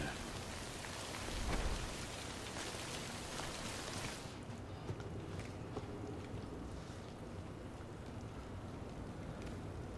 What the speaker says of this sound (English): I got the rain over there.